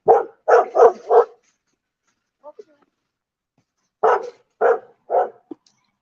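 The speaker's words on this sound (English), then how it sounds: "It's a good guard dog, right?" A guard dog in a yard barks close and loud: four rapid barks, a quiet pause with a faint small sound, then three more spaced barks and a final short yip.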